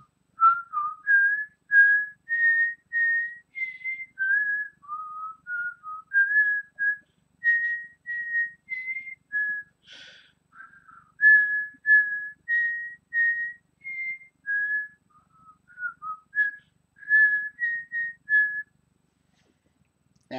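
A person whistles a melody alone, a clear bright tune of short phrases with brief breaks between them, close and fairly loud against a quiet background.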